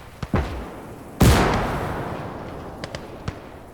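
Tank shell striking and glancing off armor in the WWII strategy game Gates of Hell (Germany vs. USSR): a couple of sharp cracks, then one heavy booming impact with a long rumbling decay and a few small distant pops afterward.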